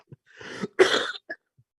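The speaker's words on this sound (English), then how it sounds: "oh, sorry, I'm coughing" A person coughs twice close up, a short throat-clearing hack followed by a heavier cough, then a small breath.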